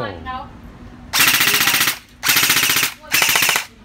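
Three rapid bursts from an airsoft M4 rifle rattle close by, each lasting under a second, separated by short pauses, after a faint voice at the start.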